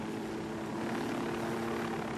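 Helicopter rotor and engine drone from the video game Ghost Recon Wildlands, a steady, continuous whirring hum holding level throughout, with no talk.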